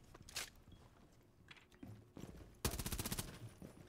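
Rainbow Six Siege gunfire, with a few scattered shots early and then a loud, rapid automatic burst near the end, heard over faint footsteps and movement.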